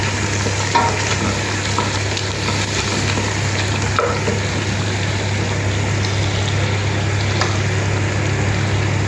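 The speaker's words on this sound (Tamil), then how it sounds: "புதினா போடணும் ஒரு நல்லா வதக்கம்" Mint leaves sautéing in a pan for vegetable biryani, a steady close sizzle and crackle of frying with occasional soft stirring scrapes and a low background hum, without speech.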